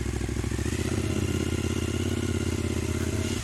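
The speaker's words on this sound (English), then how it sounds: "Very noisy machine. Loosely called a V-twin, 2 cylinders" A Suzuki SV1000 90-degree V-twin motorcycle roars steadily and loudly with an even, throbbing engine pulse throughout, heard up close from the pillion seat while riding.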